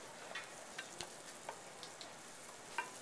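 Rice stirred in hot oil in a pan with a wooden spoon makes a faint, steady frying sizzle, with soft scraping stirs and a few light taps at uneven intervals, and nobody speaking.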